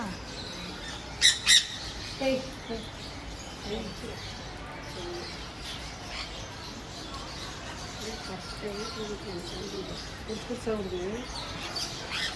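Birds squawk in a few sharp, loud bursts near the start, followed by scattered softer calls, while people talk throughout.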